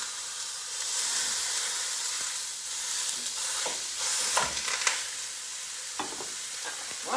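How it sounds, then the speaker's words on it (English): Beef browns in a pot for American-style cheesy goulash, a continuous close sizzle and hiss with scattered stirring scrapes and pops. "We want our beef to brown up as well."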